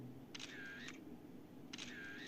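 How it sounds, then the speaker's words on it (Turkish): Two camera shutter clicks in the video game GTA San Andreas, each a crisp mechanical snap-and-whir, spaced about a second and a half apart over quiet game ambience. "Güzel bunların fotoğraflarını çekelim."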